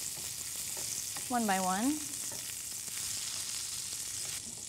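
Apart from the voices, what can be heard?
turnips searing in bacon fat in a pan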